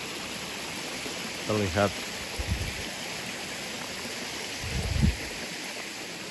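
A waterfall stream at Curug Ci Se Eng, a rest area in Desa Kutaagung, gives a steady, even rush of flowing water throughout, with a few short bursts of speech over it.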